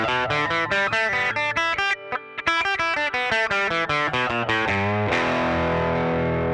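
An electric guitar with a P90 pickup plays through a Fender amp, producing a driven, slightly distorted tone. Sustained chords and picked notes ring in a steady phrase, loud and close with no talking.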